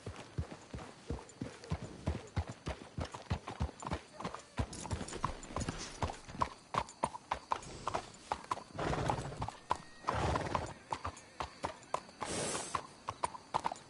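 Horses in Red Dead Redemption 2 clip-clop at a steady walking rhythm, hooves close and distinct, with several whinnies and snorts breaking through; a brief voice is heard faintly beneath the hoofbeats.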